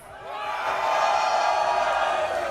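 Crowd at a VALORANT Masters London watch party cheering and whooping on cue, a broad wash of sustained voices and shouts that builds quickly and holds for a couple of seconds.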